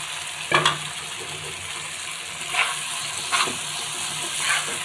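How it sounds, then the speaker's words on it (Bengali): Fish pieces going into a pan of cooked-down spiced oil for a fish curry, giving a steady bright sizzle with a few brief splashy bursts as they land, close up and with no voices. "এবারে আমি মাছগুলো দিয়ে দিচ্ছি তেল করতে"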